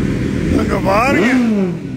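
A pack of Kawasaki Z900 motorcycles rides past, engines rising and falling in pitch as they rev by close and loud, with people talking over the sound.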